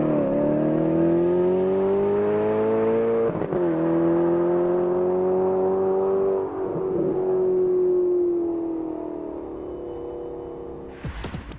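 Alfa Romeo 8C Competizione engine droning loudly under load while driving, a strong, steady tone that rises, dips briefly at a shift, then holds and slowly fades.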